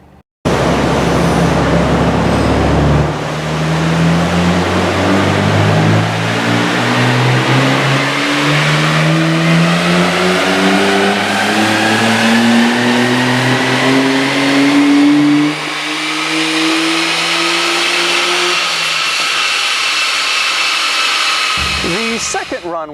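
A Nissan Skyline GT-R engine on a dyno pulls a long, steady run, its loud note rising in pitch for about fifteen seconds before easing off and winding down, with a brief sharp burst at the very end.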